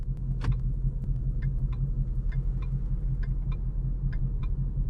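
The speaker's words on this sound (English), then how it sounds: "Maybe the turn signals." Regular soft clicking of a stock 2012 Mustang GT's turn signal, ticking in a steady rhythm over a low idling engine hum.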